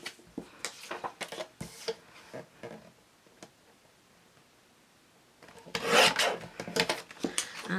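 Scissors cut through a sheet of craft paper in short, close snips and rasps, a quieter stretch in the middle, then a louder burst of cutting near the end.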